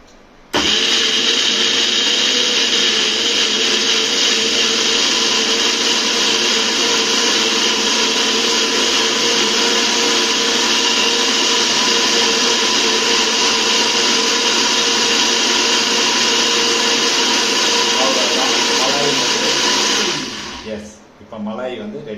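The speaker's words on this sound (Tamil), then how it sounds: "மலாயை வந்து நல்லா சாந்து மாதிரி அரைச்சி எடுத்துட வேண்டியதுதான்" A mixer grinder whirs loudly and steadily as it grinds malai into a smooth paste, a sustained high-pitched motor whine that runs for about twenty seconds before winding down and stopping.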